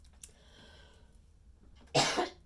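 A single loud, harsh cough near the end, from a woman recovering from the flu with lingering congestion, preceded by quiet room tone and a faint breath.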